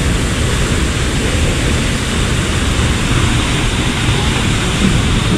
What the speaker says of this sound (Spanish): esta es entonces la Catarata de la Paz